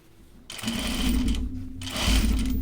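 A sewing machine runs in two steady bursts, stitching a backpack seam just beside the seam allowance, close and fairly loud with a short pause between runs.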